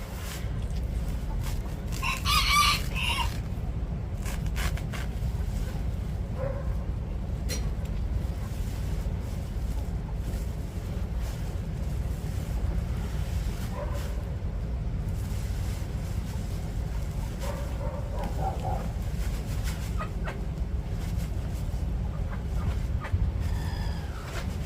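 A flock of backyard chickens waiting to be fed clucks steadily throughout, while a rooster crows a couple of times over the flock's chatter and a faint low background rumble.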